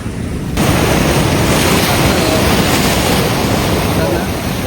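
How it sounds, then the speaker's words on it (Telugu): Surf rolls continuously onto the rocky shore of Anjuna Beach in Goa, a loud, dense wash of breaking waves with wind buffeting the microphone and no clear gaps. "బాగుంది కదా అంజనా బీచ్."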